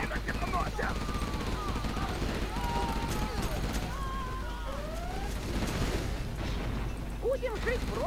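Bursts of heavy weapon fire and explosions in Command & Conquer: Generals Zero Hour, with rapid shots and booms layered over game effects and voices.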